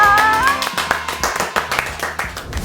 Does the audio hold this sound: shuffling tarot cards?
no